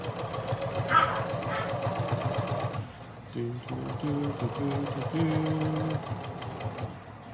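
A domestic sewing machine runs in steady rapid bursts of stitching close up, pausing and restarting in short runs, with a person talking quietly over parts of it.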